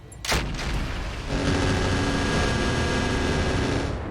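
Mech weapons firing in the RogueTech battle game, opening with a sharp blast and then a sustained roaring barrage that stays loud and dense to the end.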